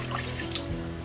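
Water pours in a steady continuous stream into a Dutch oven for chicken and rice, a close, moderately loud rushing trickle lasting about a second without speech.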